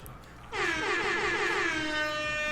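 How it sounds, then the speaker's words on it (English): A loud, blaring air horn blast kicks in after a brief pause and holds steady, its harsh tone sustained to the end. "So, air horns."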